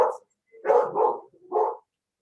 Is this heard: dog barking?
yes